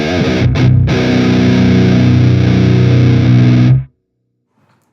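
Electric guitar played through an amp simulator impulse response in FL Studio, a thick, bassy, distorted tone ringing loud and sustained for nearly four seconds before cutting off to silence.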